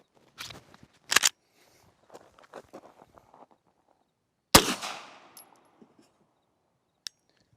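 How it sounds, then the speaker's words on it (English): A standard 9mm ball round fired at a vehicle gives one sharp, loud gunshot with a short ringing decay, set among quieter footsteps and handling clicks before and after. "let's go ahead and shoot it"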